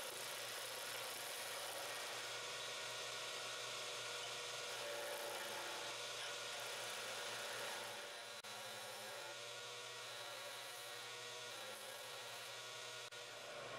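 A wood lathe turns chestnut oak at about 1800 rpm while a skew chisel shapes it into a cylinder, giving a constant motor hum with a steady scraping hiss that eases slightly partway through.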